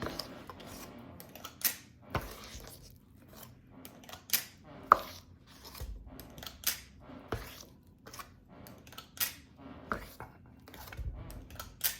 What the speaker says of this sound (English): I just push it against the bowl and get an even scoop every time